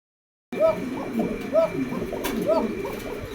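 Romagnol pigeons coo in a cage, a few soft rolling coos repeating about once a second, close by, with faint background noise.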